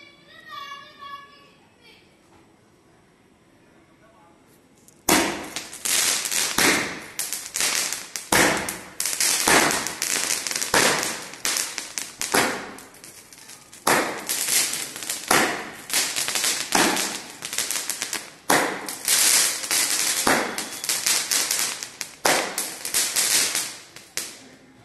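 A 12-shot strawberry firework cake launching, a rapid run of loud sharp cracks and bangs firing one after another for about twenty seconds, with children's voices faint before and between shots.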